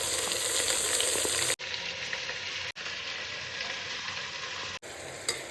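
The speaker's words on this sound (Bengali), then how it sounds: "সব কিছু মেশালাম, হাই হিটে এখন কষাবো, পুরো হাই হিটে কষাবো।" Mutton fries on full high heat in a pan, giving a loud, dense, continuous sizzle that breaks off sharply for an instant a few times before resuming.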